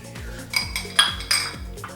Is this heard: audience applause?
no